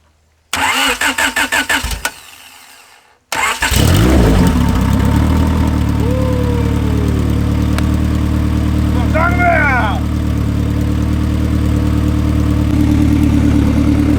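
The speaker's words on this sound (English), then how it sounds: "It is open header right now, so it's a little louder than it normally would be," A right-hand-drive car engine cranks with a rapid whirring starter, catches, and settles into a loud, throaty idle from open headers, close by.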